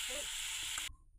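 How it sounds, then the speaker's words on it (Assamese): Ginger, garlic, turmeric and salt fry in a pan with tomato, giving a soft, steady sizzle with faint stirring that cuts off abruptly near the end. "ইয়াতে আদা নহৰুখিনি দি ললো আৰু ইয়াত হালধি আৰু নিমখ দি দিলো আৰু এতিয়া এইখিনি ভাজি লব অলপ টাইম"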